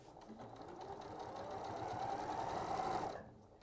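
Sewing machine running steadily for about three seconds, a continuous mid-pitched motor whir with rapid needle chatter while stitching an animal appliqué project, then stopping abruptly near the end.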